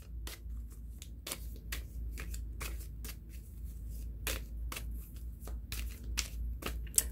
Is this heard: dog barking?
no